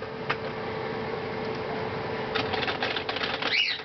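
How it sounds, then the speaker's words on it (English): Rapid, light keystrokes patter on a keyboard while writing a blog post, soft and continuous with a brief denser burst toward the end, no talking. "I'm just gonna fake type here for a minute"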